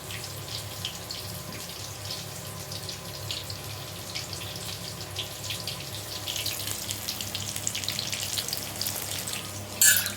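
Hands swish and splash in a bowl of water with a steady, close watery rustle, continuing throughout with a brief louder splash at the end.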